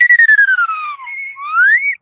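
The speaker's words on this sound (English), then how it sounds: "Slide whistle classic." A slide whistle plays a long descending glide, pauses briefly, then swoops back upward, bright and clear with nothing else around it.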